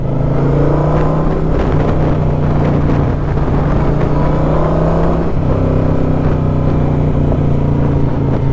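A Kawasaki Vulcan 900 motorcycle engine and exhaust while riding, a loud, steady throbbing drone that holds even and continuous, with a brief shift in pitch around the midpoint.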